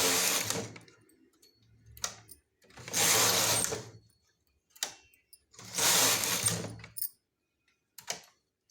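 Hand-operated knitting machine forming a brim cap, its carriage swept across the needle bed in three loud rasping passes of about a second each, separated by quieter clicks and pauses.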